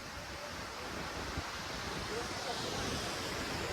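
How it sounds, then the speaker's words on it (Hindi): Rushing water from a waterfall stream fills the air on an outdoor family outing, a loud, steady roar of broadband noise that holds unbroken throughout. "इतना तो पानी का शोर आ रहा है"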